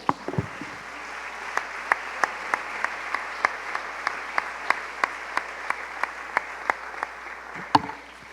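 A church congregation claps during a service, a sustained moderate round of applause with a few sharper, regularly spaced claps standing out above the crowd.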